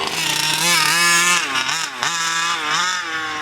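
A giant gas-powered two-stroke RC truck engine runs at half throttle, a loud, buzzy, raspy whine that rises and falls in pitch as the revs swell and dip, close and continuous.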